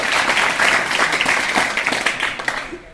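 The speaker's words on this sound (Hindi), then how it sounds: "अपनी जोरदार ताली बजा लो प्रसाद के लिए।" Brief, loud applause from an audience at a government school event honoring a colonel, rapid clapping that fades out within a few seconds.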